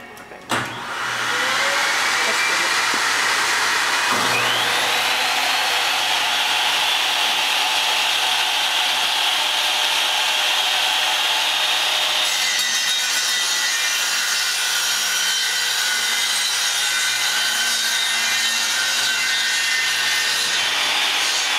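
A saw cuts wood at a hardware store, a continuous loud whining, rasping roar that starts abruptly and holds steady for about twenty seconds with no talk.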